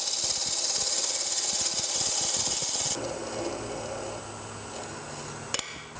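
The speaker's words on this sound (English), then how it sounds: "I can take a parting tool and simply cut this off to that length" Parting tool cutting off a turned wood ball on a lathe, a steady abrasive shearing hiss that stops about halfway through, leaving the lathe's lower hum and a brief clack near the end.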